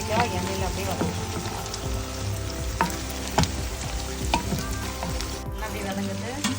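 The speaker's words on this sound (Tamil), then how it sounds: "கத்திரிக்காய் எண்ணெயில் அப்படியே வதக்கும்." Chunks of eggplant sizzle and crackle steadily in hot oil, with occasional sharper pops and stirring scrapes throughout.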